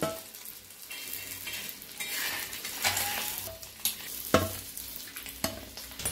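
Eggs fry quietly in a pan for an egg dish with chapati, a soft continuous sizzle broken by occasional scraping knocks of a spatula against the pan.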